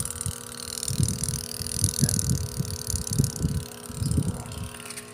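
An automatic washing machine converted to manual control runs its spin dryer, a low rumbling hum with rhythmic thumping pulses, close and steady with no talking.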